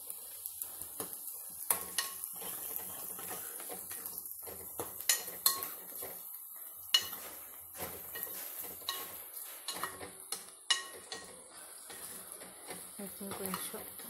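Onions frying in a pan for a yellow cucumber and tomato curry, a soft continuous sizzle with clinking stirs of a utensil against the pan, fairly quiet, while a person talks over it.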